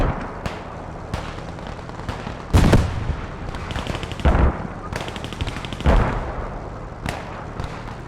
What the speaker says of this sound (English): Not sure what this tank's shooting at.